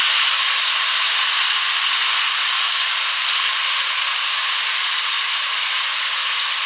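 Country chicken curry with salt, chili and turmeric simmering in a pot, a steady loud hiss of steam and bubbling without pause, no talking.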